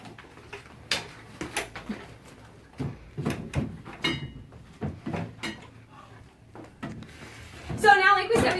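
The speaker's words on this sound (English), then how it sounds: "We're putting the drawer fronts back in." Painted wooden drawer fronts on a secondhand dresser being fitted back in, giving a series of scattered wooden knocks, bumps and sliding thuds at close range, with a sharper rattle near the end and people talking around the work.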